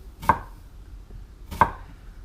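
Two sharp, separate knife strikes cut down through an onion on a board, each a crisp close chop, with quiet pauses between them and no talk.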